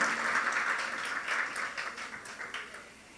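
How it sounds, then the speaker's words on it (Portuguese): An audience gives a round of applause for the people who have spent the whole day at the event, a steady wash of clapping at moderate distance that fades slightly toward the end. "vamos dar uma salva de palmas para essa galera que está aqui o dia inteiro hoje?"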